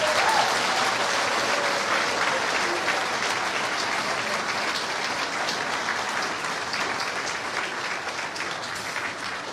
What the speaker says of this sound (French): Nous allons applaudir plus fort que ça